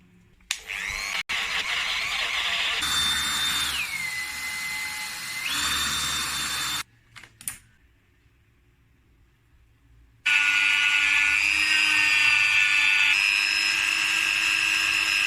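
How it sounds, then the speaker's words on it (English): A Dremel fitted with a sponge disc removes paint from an old Stanley 9 1/2 cast-iron block plane, whining at a high pitch in several bursts with short quiet gaps, then one long steady run at the end. "I was testing this sponge disc for the Dremel and got quite carried on"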